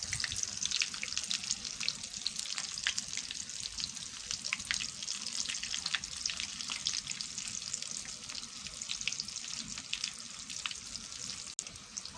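Shami kebab patties (tikki) for an egg shami burger frying in a pan: a steady, dense crackling sizzle of hot oil that runs without a break, close and fairly loud, with no talking.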